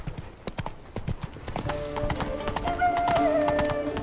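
Roach, the horse in The Witcher 3: Blood and Wine, gallops with fast, loud hoofbeats that build in intensity, and a whinny rises near the end.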